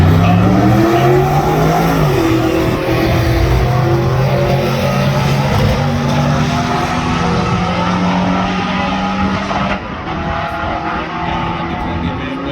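Drag race street cars launching at US131 Motorsports Park during a Streetcar Takeover event: a loud, sustained engine roar with rising and shifting harmonic tones, close and continuous throughout, with no clear talk.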